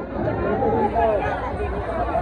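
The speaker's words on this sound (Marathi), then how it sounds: "गर्दी बघा, गर्दी कशी गर्दी आहे, एक नंबर." A dense crowd at the Ekvira temple palanquin procession, a continuous loud babble of many voices close by with no single speaker standing out.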